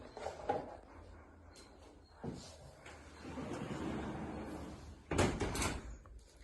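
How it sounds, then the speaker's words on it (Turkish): An interior door of a sea-view 3+1 apartment is pulled shut, with a few dull knocks and rustles before one louder closing thud near the end, fairly close and with no talk. "Sen gir içeri ben kapıyı kapatayım da sinek girmesin."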